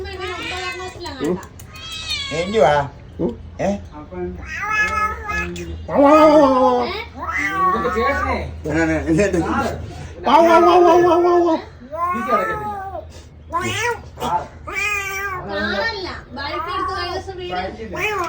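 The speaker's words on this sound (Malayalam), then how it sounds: "ഒരു പൂച്ചയുണ്ട്" A cat meows loudly and repeatedly at close range, with insistent, drawn-out cries following one another in quick succession over the whole stretch.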